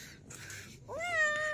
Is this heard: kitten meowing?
yes